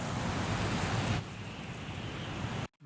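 A Star Wars wind ambience effect: a dense, steady rushing roar with surf-like swells, loud for about a second, then softer and thinner before cutting out abruptly near the end.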